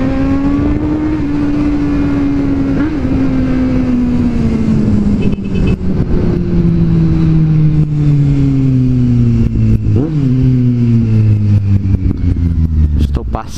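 A white Kawasaki Z750 motorcycle rides along with a loud, steady engine note that drifts slowly lower as it slows, with brief revs and gear changes near the middle and end, close and continuous throughout.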